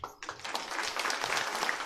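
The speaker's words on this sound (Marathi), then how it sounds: "वाजवा जोरात टाळ्या." An audience at a public political gathering bursts into applause after a brief lull, the dense crowd clapping building quickly and holding steady, fairly loud, with no speech.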